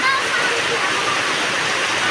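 Heavy rain pours down over a courtyard in a loud, unbroken rushing hiss, with a voice speaking over it.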